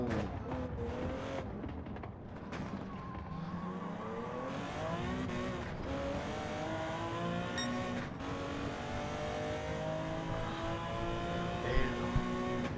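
Porsche 917K from 1970 racing in Gran Turismo 7, its engine droning steadily with rising and falling pitch through shifts and acceleration, continuous and fairly loud throughout with no talk over it.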